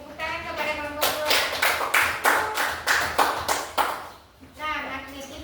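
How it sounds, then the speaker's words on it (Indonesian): Classroom clapping for a student group, a run of sharp rhythmic hand claps up close, with children's voices and a teacher speaking before and after. "Beri tepuk tangan kepada kelompok dua."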